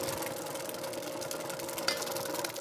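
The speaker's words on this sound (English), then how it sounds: "We're going to turn down the speed of our mixer" An electric stand mixer runs at a steady speed while mixing pumpkin apple gingerbread batter, a continuous close motor whir with a faint rattle and no talking.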